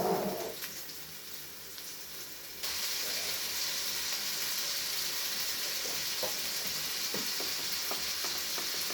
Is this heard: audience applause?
no